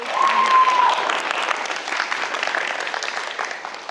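Audience applause at a Kindermusik graduation ceremony, a steady dense wash of many hands clapping throughout, fairly loud and even with no voices standing out.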